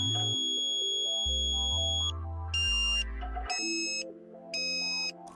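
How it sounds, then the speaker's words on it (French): A Tooway satellite dish pointing finder emits stepped electronic tones, steady held pitches that shift up and down in distinct levels with bright high beeps, clear and alone. "La tonalité continue à ce point n'indique pas le signal optimal."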